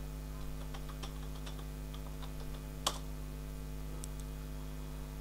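Quiet keystrokes on a computer keyboard typing a terminal command, scattered light clicks over a steady low hum, with one sharper tap near the middle.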